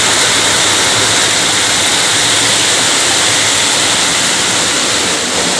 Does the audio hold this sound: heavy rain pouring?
yes